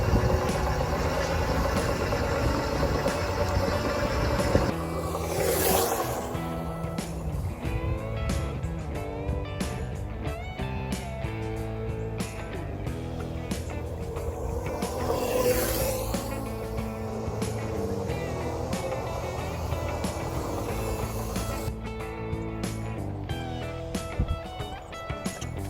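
A Razor Ecosmart Metro electric scooter rides off-road, giving a steady, loud mechanical rumble and rattle over rough ground that lasts throughout, with brief swells in the noise along the way.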